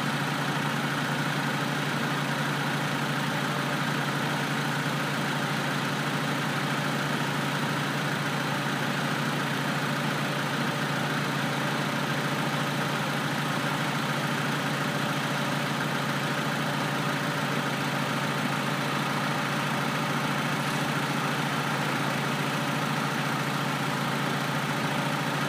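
A 1997 Honda Civic with a 1.6 engine idles steadily and evenly, a constant close hum with no change in pitch and no talk.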